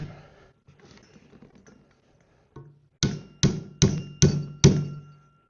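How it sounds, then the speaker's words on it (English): A small hammer drives the front pin into a katana handle: after some soft handling noises, five sharp, ringing metallic taps land in an even rhythm, close and clear. "Usually I'll start with just the hammer."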